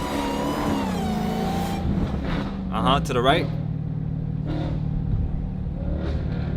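Dodge Challenger and Charger muscle-car engines, including a flame-tuned Demon 170 Charger, rev and rumble on a city street, with a sharp high burst midway, while people talk excitedly over them.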